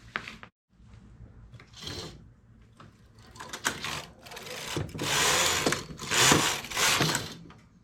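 A knitting machine carriage is swept back and forth across the needle bed while knitting a garment front, giving repeated loud rasping, clattering passes with short pauses between them.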